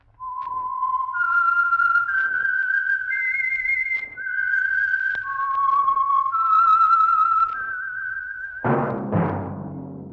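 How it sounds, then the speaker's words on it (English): Whistled theme tune of The Whistler radio show, a lone clear melody whistled in sustained and sliding notes for about eight seconds, ending with a short burst of orchestral sound. "That whistle is your signal for the Signal Oil Program, The Whistler."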